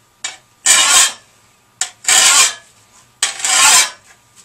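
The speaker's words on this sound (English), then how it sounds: "I'm going to take my bastard file and hold it at a 30 degree angle to my beveled edge and move up and out" Three separate rasping strokes of a bastard file drawn at an angle across the beveled edge of a long-handled tool blade, each a loud, gritty scrape of about half a second, close up with short pauses between.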